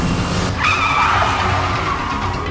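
A powerful car in a Hardy Boys mystery video game speeds along with a loud engine drone, and a sharp tire screech cuts in partway through, then fades back under the engine.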